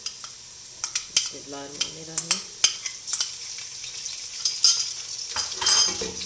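Ginger and garlic stirred into golden brown onions frying in a pan: steady sizzle with repeated sharp scrapes and clinks of a spoon against metal, close and unhurried, with a brief tonal squeak near the start.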